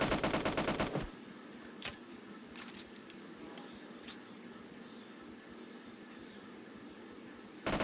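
Shotgun gunfire in a video game, a rapid burst of loud shots at the start, then a quieter stretch with a few isolated sharp blasts, and firing resumes at the very end.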